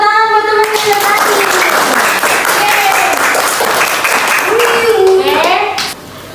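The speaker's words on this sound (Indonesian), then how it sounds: "tepuk tangan buat teman-teman yang tadi" Children in a classroom clap together for their classmates, a dense burst of applause with excited kid voices and squeals rising over it, close and loud, then fading near the end.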